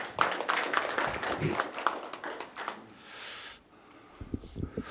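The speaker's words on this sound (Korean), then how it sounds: "다시 한번 큰 박수 부탁드리겠습니다" Audience applause at a Gwangju city council debate forum, a dense patter of clapping that fills the room for a few seconds, then fades into quieter murmurs and a few scattered claps.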